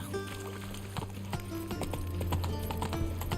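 Horse hooves clip-clop at a steady walking pace in the video game The Witcher 3, with rhythmic close hoofbeats over a humming game soundtrack.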